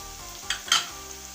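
Low sizzling in a pan as spices go in with roasted tomatoes for egg chutney, with a couple of brief stirring scrapes and a quiet frying hiss underneath.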